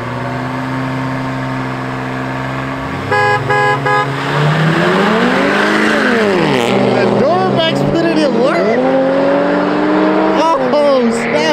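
A Duramax pickup truck races with loud engine roar and rising, falling revving passes, mixed with horn-like tones and crowd noise; people talk throughout.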